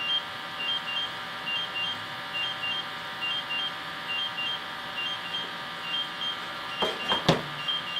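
A gas detector alarm beeps in a steady repeating pattern of short high tones, with a couple of sharp clunks near the end.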